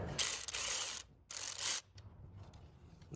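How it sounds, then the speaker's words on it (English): A ratchet wrench loosens a 10mm nut on a Toyota 22RE engine, giving two close bursts of rapid clicking separated by a short pause, with no voices. "we got the 10mm nut off"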